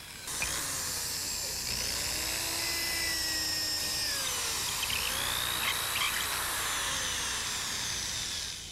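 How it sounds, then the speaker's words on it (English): A high-pitched electric drill whines continuously, its pitch rising and falling slightly as it bores, loud and close with no talking. "I want to show you that this drill is the real thing."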